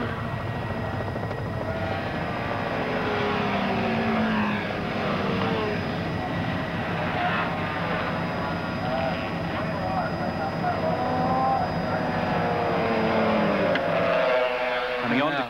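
A Yamaha 700 racing sidecar engine drones loud and continuous on the Bathurst track, rising in pitch toward the end as the outfit races down the fast Conrod Strait, with commentary talk running over it.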